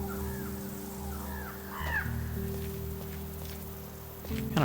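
Birds caw in the video game NUTS, several short hoarse calls in the first two seconds over a steady outdoor bed of hum and a rain-like hiss, with no talking.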